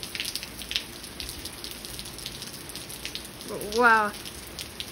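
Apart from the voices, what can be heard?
rain with hail falling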